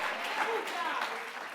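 A church congregation applauds during a service, a dense wash of many hands clapping at moderate distance, steady and lively, with voices cheering faintly within it.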